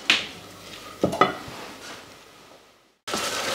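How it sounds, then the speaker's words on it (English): Diced onions cook gently in a pan over medium heat for risotto, a soft faint sizzle broken by a few clinks and stirring scrapes of a utensil against the pan. "we want to cook the onions until the onions are translucent on a medium heat"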